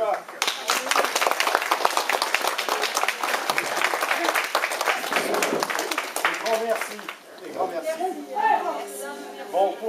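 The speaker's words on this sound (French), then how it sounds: "Je vais vous demander d'applaudir" Audience applauding volunteers at an indoor gathering during a move, steady clapping for about seven seconds that thins into scattered claps under chatter and speech.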